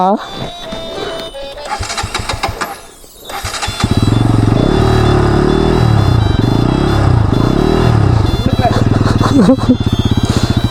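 A KTM Duke 250 Gen 3 motorcycle has its starter cranked, then the engine catches and settles into a loud, steady, close idle with a throttle blip near the end. People talk before it starts.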